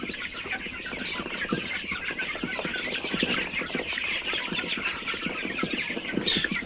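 Chickens in a backyard pen of cages, including darag native hens, cluck and chatter continuously at close range, a busy overlapping flock murmur with occasional louder squawks.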